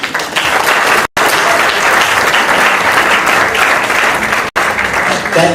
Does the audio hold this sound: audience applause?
yes